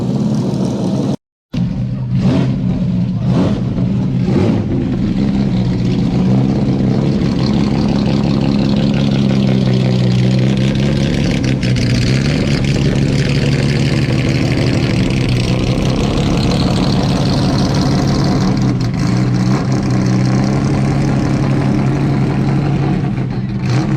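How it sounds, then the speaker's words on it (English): An old Jaguar E-Type race car engine runs loudly nearby, a deep, rough idle punctuated by several sharp throttle blips early on, then a sustained growling rumble as the car moves along. "That thing sounded epic. Some old E-Type race car."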